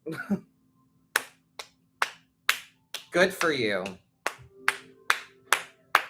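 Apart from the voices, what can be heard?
hand clapping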